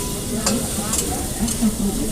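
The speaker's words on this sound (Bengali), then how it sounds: "তাই ঝিঙে দিয়ে এবার ভেজে নিচ্ছি ভালো করে" Ridge gourd and shrimp frying in a pan, a constant close sizzle with rhythmic scraping strokes of a spatula stirring, no voices.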